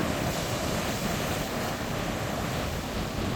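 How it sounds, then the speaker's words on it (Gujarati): Rough monsoon sea waves crash steadily on the Malala seashore at Diu around sunset, a loud, unbroken roar of surf mixed with wind noise. "અને આ મોજા કેવા ભયંકર છે."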